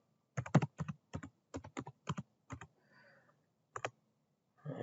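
Someone types a password on a computer keyboard: a quick run of crisp, close key clicks in small clusters, a short pause, then a couple more taps, with no talking.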